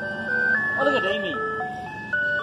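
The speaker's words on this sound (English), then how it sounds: "The yellow ice cream truck in this gloomy weather." A yellow ice cream truck plays its tinkling melodic jingle steadily throughout, loud and fairly close, in gloomy, smoky outdoor weather.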